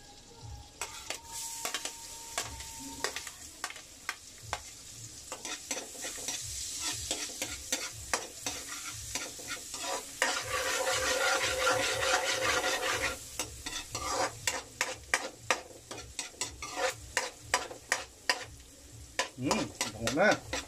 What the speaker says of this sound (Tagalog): Siyempre, lagyan na natin itong ating bawang.